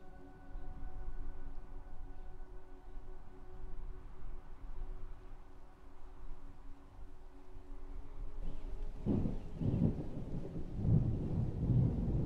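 Steady rain hisses throughout with a low rumble of thunder; partway through, the downpour grows louder and closer, with heavier splashing.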